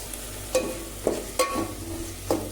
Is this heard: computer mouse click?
no